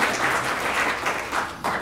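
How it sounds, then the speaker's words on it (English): Audience applause at a mathematics educators' gathering, a steady wash of many hands clapping at close range, swelling in small bursts and running unbroken throughout with no talk over it. "Give yourself an applause, a round of applause."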